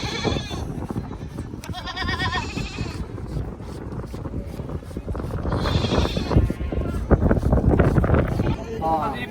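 Goats bleat loudly several times in wavering cries, close by, at a goat market in Dhanaula, over a busy background of voices and wind noise.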